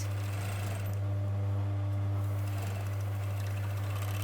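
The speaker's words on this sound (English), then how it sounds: "it might be easier for you if you turn it over and start overlocking it from this end" An overlocker serger stitches a fabric vest panel with a steady, close mechanical hum and whir that runs continuously.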